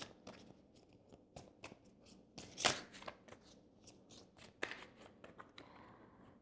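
Tarot cards shuffled and drawn by hand, heard as a quiet run of soft papery flicks and snaps, with one louder riffle about midway and sparse card handling after.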